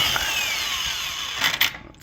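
A power tool, likely an impact or ratchet tool, removes the center bolt on a 2014 VW SportWagen wheel hub with a close, loud continuous whine and rattle that runs through the whole clip and briefly surges near the end.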